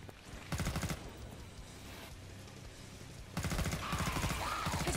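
Bursts of automatic gunfire in Killing Floor 2, fairly quiet and steady, with a stretch of rapid shots early on and another sustained volley toward the end.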